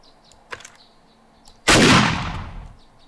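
A single loud, close shotgun blast in the video game 7 Days to Die, with a long decaying boom after it, preceded by faint small taps and quiet ambient noise.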